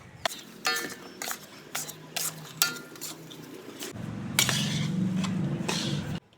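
Ghee, flour and sugar for panjiri (1.5 kg ghee, 2 kg flour, 1.5 kg sugar) being stirred together in a pot, heard as repeated close scraping and clinking strokes of a utensil, growing denser and steadier toward the end, with no talk.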